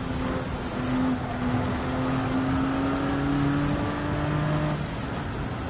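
A Gr.1 prototype race car at full throttle at Michelin Raceway in Gran Turismo 7, the engine's steady high-revving drone rising slowly in pitch, loud and close throughout.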